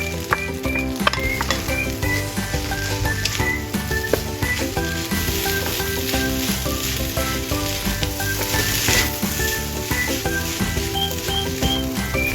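Fried rice with stir-fried eggs, corn and diced carrots sizzles loudly in a hot pan for sambal potato fried rice, with a constant crackling hiss and frequent clanking scrapes of a spatula stirring throughout.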